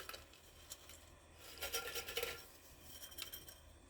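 Dry dehydrated diced onion pieces rattle and clink against a tray or container in a few short bursts, quiet and close, with a louder clustered rattle near the middle.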